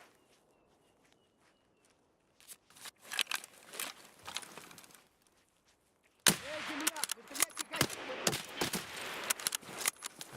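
Shotgun fire in Escape from Tarkov, with sharp blasts and clattering movement that are sparse and quiet at first, then turn louder and denser in the second half.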